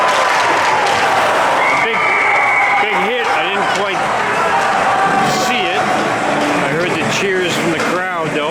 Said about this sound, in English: Cheers from the crowd, though.